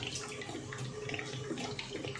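Continuous pour of cooking oil into a large biryani pot for chicken and rice, a soft, steady liquid rush with faint splashy texture, heard alone without talk.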